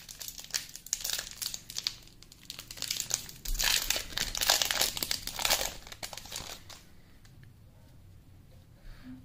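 Yu-Gi-Oh booster packs from a 2018 tin box are torn open by hand, with loud, bursting crinkles and rips of foil wrapper that go on for several seconds. The sound then thins to softer rustling toward the end.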